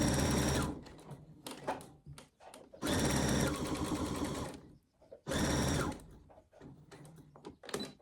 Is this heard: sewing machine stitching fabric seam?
yes